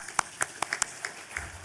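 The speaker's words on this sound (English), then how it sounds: "I will request all of you to give a big round of applause for yourself" Scattered, fairly faint claps ring out in an orientation and induction programme hall at NSUT, a handful of distinct hand claps spaced through a quiet room.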